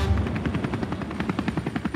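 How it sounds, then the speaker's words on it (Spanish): Helicopter rotors thudding at a Manhattan heliport beside the Hudson River, a steady rapid chopping pulse, fairly loud and continuous, with no one talking. "creo que hay varios helicópteros que están por salir"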